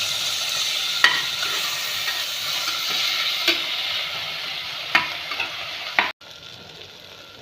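Potato sautéing in a pan gives a steady sizzle and hiss, with a few sharp clicks as it is stirred, then a sudden drop in level near the end.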